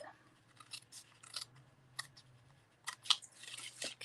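Scissors snip repeatedly through paper while trimming a gate fold card, with quiet, irregular cuts that cluster toward the end and a low hum underneath.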